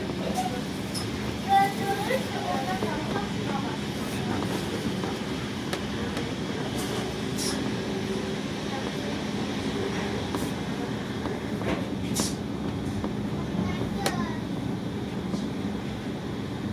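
Inside a moving Deutsche Bahn Intercity 2 train, a low, steady rumble and hum of running gear fills the carriage, with faint clicks and a muffled onboard announcement voice over it.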